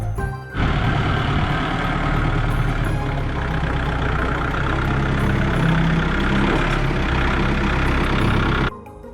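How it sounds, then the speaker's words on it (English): A tractor engine runs steadily at a low, heavy drone while pulling out a large bramble, starting abruptly and holding constant before cutting off near the end. "So we're going to see if we can get this whack and great bramble out with the tractor."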